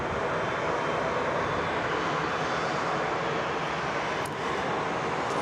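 A Cathay Pacific airliner arriving from Hong Kong at Sydney Airport, heard as a steady, broad engine roar at moderate distance that holds evenly throughout, with no talking.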